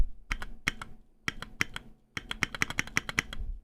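Keys on a computer keyboard are typed nearby in quick bursts of crisp clicks and clacks, with short pauses between runs. No one speaks.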